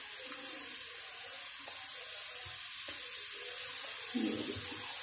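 Potato chips slipped one at a time into hot frying oil, a steady bubbling sizzle running throughout with soft plops and a louder burst of frying near the end, no talking.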